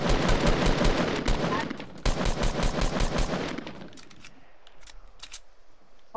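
Rapid automatic gunfire in the Fortnite video game: loud, dense bursts of shots for several seconds, broken by a short gap, then thinning into scattered, fainter shots and clicks.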